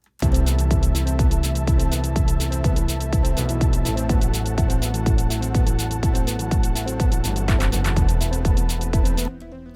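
A short electronic music loop with a steady, punchy beat under sustained synth tones, repeating evenly before cutting off abruptly.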